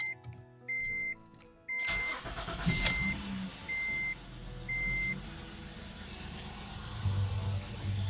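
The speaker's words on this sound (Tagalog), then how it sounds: "Okay, let's check the engine oil level. Let's start the engine." A car engine starting after a DIY oil change, with a cranking burst followed by a steady idle, while a repeating warning chime sounds beforehand and through the start.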